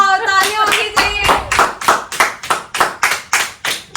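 A studio audience on a talk show claps together, starting under a spoken voice and settling into a steady, rhythmic run of loud, evenly spaced claps.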